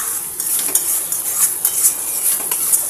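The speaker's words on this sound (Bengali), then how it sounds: "তো মশলাটা কিছুক্ষণ কষুক" Masala being sautéed in a pan for chicken curry: a bright hiss of frying under brief scraping and stirring clicks of a spoon, close and steady throughout, with no speech.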